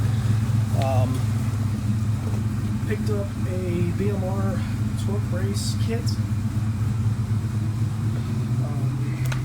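A Ford Mustang Mach 1 engine idles steadily as it warms up in a garage, a constant low rumble running throughout while someone talks over it.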